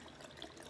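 Water flowing from a cleared air conditioner drain hose into a sink near the faucet, a faint, steady trickling splash with no talking.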